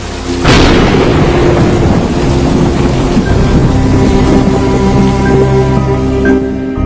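Rain and thunder sound effect: a loud, deep rumble of thunder rolls in and sustains over a dense wash of heavy rain, continuous and close until it fades at the end.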